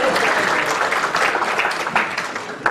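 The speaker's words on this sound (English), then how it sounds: "Round of applause for the first tenor" Audience applause at a Christmas concert, a steady wash of clapping for the first tenor of a choir, loud and close throughout with no voices on top.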